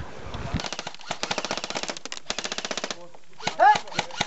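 Airsoft guns fire during an indoor CQB wargame, with M4 and MP5 style replicas in use: rapid bursts of sharp, close full-auto shots in several runs, then a few single shots, with a voice briefly audible.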